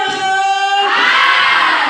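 A classroom audience cheers and applauds for a student group after its presentation, a dense, loud burst of shouting and clapping that swells after a brief held note, with no talk over it.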